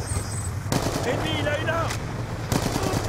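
Gunfire on the Dig map from the Apocalypse map pack crackles in two sharp bursts amid continuous background battle noise, with a person talking over it.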